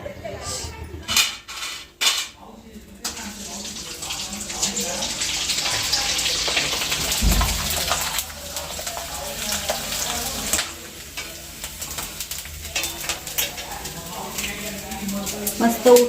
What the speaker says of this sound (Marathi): आता मी तेल तापत ठेवले आणि मस्त आम्ही चकल्या तळून बघतो